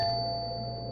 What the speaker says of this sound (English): Why'd the doorbell ring again?